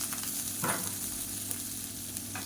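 Chopped onion sautéing in a pan with asafoetida for a diet kozhukattai breakfast, a soft, steady sizzle with light stirring scrapes, fairly quiet and close, no voices.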